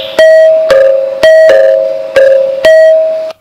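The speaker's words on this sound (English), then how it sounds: "this is the combination of the temple bell and the school bell to create the modern day doorbell." Four clear ringing strikes come at an even pace, each a bright bell-like tone that rings and fades, like a doorbell chime, played on the carved stone musical pillars of Vittala Temple.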